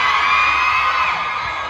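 A concert crowd at 76 Garage in 2020 screams and cheers in one loud, sustained, high-pitched roar without a break.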